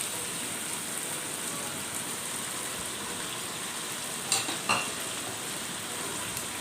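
Yogurt being mixed into a chicken biryani mixture in a pot gives a steady soft hiss, with two brief sharper scrapes near the end.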